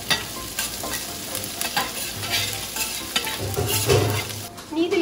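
Chopped ginger and red chilli fry in butter with a continuous close sizzle, punctuated by scraping stirs and light clinks of a spoon against the pan, and no talking.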